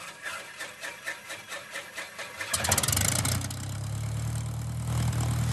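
A small training airplane's engine starts and settles into a steady idle, preceded by rhythmic cranking pulses, close and moderately loud, with no talk.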